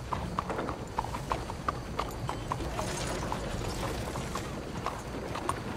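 Horse hooves clip-clop in a steady, even rhythm across a trail in the Red Dead Redemption II video game, close and clear over a dense low rumble of ambient game sound.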